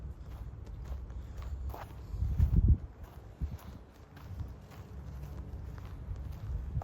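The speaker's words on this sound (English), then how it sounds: "I just heard more footsteps" Footsteps crunching along a wooded trail, snapping branches underfoot, a few uneven steps with a louder cluster near the middle, fairly close and low in tone against a quiet outdoor background.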